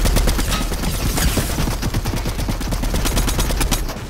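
Gunfire in a battle royale shooter: dense, loud automatic bursts fire rapidly and continuously throughout, layered shots close by with no voice heard.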